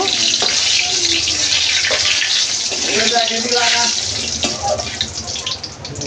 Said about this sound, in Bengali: তেল গরম হয়ে গেছে, ফোড়নে দেব এখানে এলাচ আর দারচিনি আর একটা তেজপাতা। একটু হালকা করে ভেজে নেব।